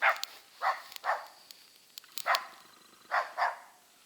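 A dog in snowy taiga barks repeatedly in short sharp bursts, about seven barks spaced irregularly over a few seconds, moderately close with quiet gaps between.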